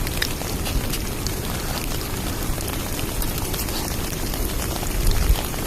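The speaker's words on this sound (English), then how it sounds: "Just keep those bubbling away." Food bubbling in a pot on a camping stove at a wild campsite in Scotland, giving a steady close simmering crackle that holds evenly throughout with no talk.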